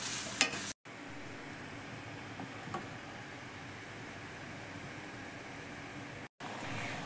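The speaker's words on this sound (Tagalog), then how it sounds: "Ihuhulog ko na yung pinalambot kong munggo." Softened mung beans hit a hot pan of garlic, setting off a steady, broadband sizzle that holds evenly throughout, with a couple of brief sharp clatters near the start and two short dropouts.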